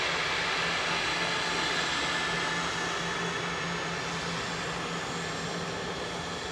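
A heavy TUI airliner at Manchester Airport gives off a steady, loud broadband engine roar with a low hum, holding nearly constant throughout.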